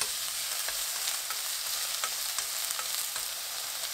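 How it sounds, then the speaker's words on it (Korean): Beef and green onion stir-fry over high heat in a pan for a quick galbi-jjim, giving a dense, continuous sizzle with faint intermittent stirring clicks throughout. No voices are heard. "소고기를 넣고 1분 30초 볶아주세요"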